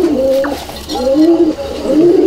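Baby pigeons in a pigeon loft give soft, close, repeated throaty coos in a few short phrases, with faint background noise.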